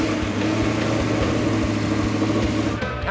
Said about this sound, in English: Start the motor up.